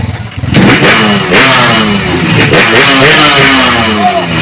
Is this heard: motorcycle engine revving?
yes